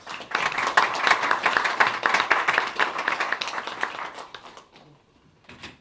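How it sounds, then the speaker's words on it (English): Audience applause for five student candidates at a spring debate event, a dense burst of many hands clapping that holds steady for several seconds, then thins out and fades to scattered claps near the end. "Let's give them a round of applause."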